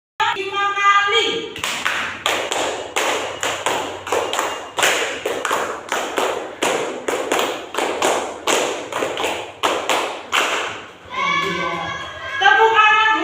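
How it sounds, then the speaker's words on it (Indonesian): A classroom claps in a rhythmic pattern, about twenty sharp, evenly spaced hand claps in a steady beat, framed by short bursts of speech at the start and end. "Tepuk tangan hebat."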